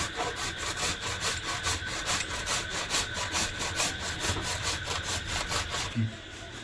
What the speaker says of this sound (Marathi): याप्रमाणे पूर्ण आंबा खिसून घ्यायचा